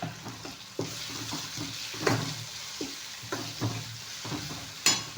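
Mint, curry leaves and coriander frying in a pan, a steady loud sizzle broken by repeated scraping stirs and a few sharp clinks of utensil against the pan, with no voice.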